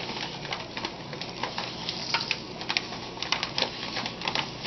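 Texas original barbecue rub is sprinkled over raw St. Louis style pork ribs. Soft, irregular ticking and pattering grains land close by in quick scattered bursts over a quiet background.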